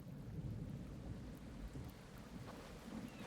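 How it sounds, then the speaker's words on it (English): Steady rain and a low rolling rumble of thunder from a storm in the survival video game Project Castaway, a continuous wash of noise with no voices. "Oh, we got a storm coming in."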